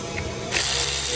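A ratchet backs out the single screw on the bypass valve of a 2017 Ford F-150 Raptor with a turbocharged engine, a brief burst of clicking close by that grows louder halfway through the turn.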